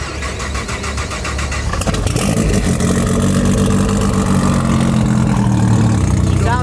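A Dodge Viper with carbon parts cranks over and fires up, settling into a loud, rough, throbbing idle close by, with no talking over it.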